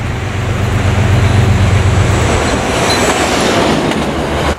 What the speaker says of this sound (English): Oh, here's another train.